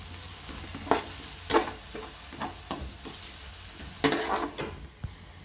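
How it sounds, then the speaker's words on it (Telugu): Curry leaves dropped into hot oil for an Andhra-style wet fish fry, giving a soft continuous sizzle with several louder crackling bursts and occasional stirring scrapes, close up and without talk. "ఇప్పుడు ఇందులో కరివేపాకు వేసుకోవాలండి"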